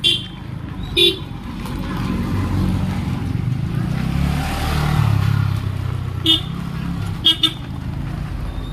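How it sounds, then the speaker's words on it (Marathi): An auto rickshaw drives past on a dusty village road, a rising and fading engine rumble with several short horn toots, while people talk nearby. "धूळ उडवत आली रिक्षा"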